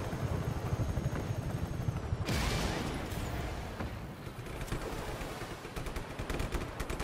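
Continuous rapid anti-aircraft fire pounds away at a helicopter in a steady rattling stream, with a sudden louder burst partway through and a low rumble underneath, in the video game Just Cause 3.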